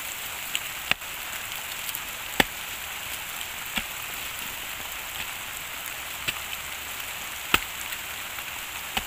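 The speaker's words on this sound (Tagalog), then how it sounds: "Umuulan na po." Steady rain falls outdoors as a broad, even hiss, with occasional sharper drops striking a nearby surface in sparse, irregular taps.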